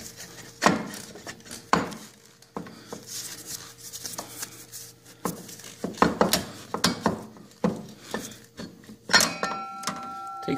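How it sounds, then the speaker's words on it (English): Metallic clinks, taps and scrapes from brake work on a 2014 Harley Street Glide Special as the caliper is lifted off, irregular close clatter with some sharper knocks and a brief ringing tone near the end. "So we should be able to just lift the caliper off."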